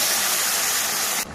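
Curry poured into a pan of fried spices, onion, garlic, bay leaf, green chili and ginger paste sets off a loud, close, roaring sizzle. The sizzle cuts off abruptly after about a second.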